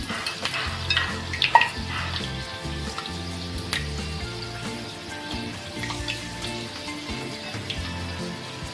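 Wheat-flour coconut puris fry in hot oil with a moderate, steady sizzle, mixed with soft clatter and handling sounds around the pan throughout.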